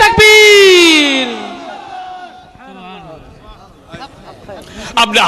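A crowd at a religious gathering roars back in response to a takbir call, one loud sustained massed shout that swells and then fades into scattered voices and lingering murmur.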